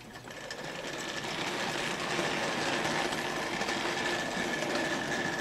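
A Hornby Dublo three-rail OO gauge model train backing into a station on the layout, giving a steady close whirring motor hum with faint track rattle that builds slightly and then holds.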